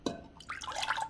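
Oil poured into a bowl as wet ingredients for chocolate chip muffin batter, a brief, quiet liquid trickle and drip close by, with no other sound around it.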